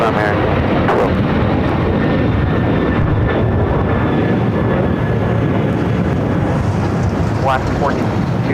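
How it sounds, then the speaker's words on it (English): An Alaska Airlines Boeing 737 in oneworld livery roars steadily at Los Angeles International Airport, a loud broadband engine rush that fills the whole stretch without letup. "One World livery on this Alaska 737."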